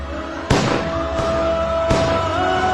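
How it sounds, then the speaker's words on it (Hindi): Three sharp gunshot sound effects ring out at regular intervals over a steady sustained musical tone, each blast loud and close with a brief echoing tail. "कार सेवकों पर गोलियां चली।"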